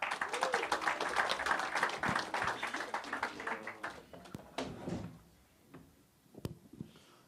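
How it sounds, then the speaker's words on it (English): Audience at a press conference for a city running series claps loudly and steadily, the applause tapering off midway into scattered claps and a quiet room with faint shuffling. "let's give a warm round of applause"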